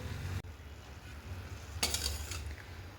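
Fenugreek leaves frying in oil with a pinch of salt in a pan, giving a steady soft sizzle with a brief stirring scrape midway and a faint clink, close and unaccompanied by talk.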